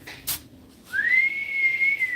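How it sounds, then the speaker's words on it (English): A person whistles one long, sustained, slightly rising tone, close and clear, preceded by a brief soft thump and no talking. "I can't whistle very well"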